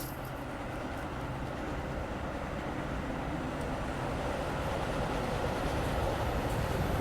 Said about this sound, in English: Wait for this train to go by.